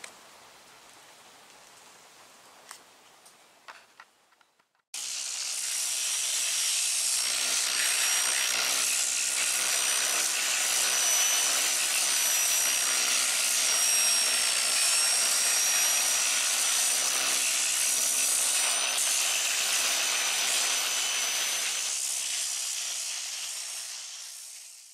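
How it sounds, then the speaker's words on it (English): A dual-action sander with 80-grit paper grinds steadily across fiberglass on a car dashboard repair, a loud continuous hiss that starts abruptly after a few seconds of quiet and runs on. "Sand it down with the 80 grit on the DA."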